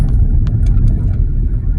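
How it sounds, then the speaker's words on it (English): A fancy white car rolls by with a loud, steady low rumble of engine and tyres, close and continuous throughout. "A fancy white car."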